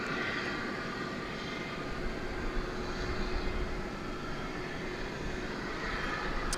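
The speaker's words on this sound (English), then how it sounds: "the Turkish Dreamliner, which is headed over to the east side to take off to Istanbul" A Turkish Airlines Boeing Dreamliner taxis at DFW Airport toward its takeoff runway, a constant low engine drone with a faint steady whine, moderately distant and unbroken by speech.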